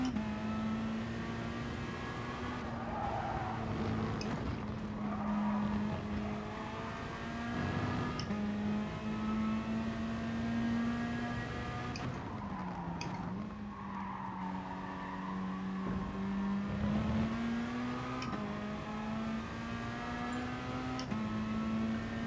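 Toyota Supra race car in GT Sport racing loudly with a steady engine drone that shifts pitch through gear changes, tire squeal and skidding mixed in, continuous and close throughout.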